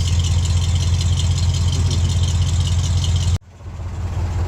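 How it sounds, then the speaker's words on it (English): A heavy old truck engine idles with a steady low rumble, then cuts off abruptly; a quieter hum builds back afterward. "Love the sound of these engines."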